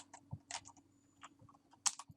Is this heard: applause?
no